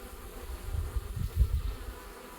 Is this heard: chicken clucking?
no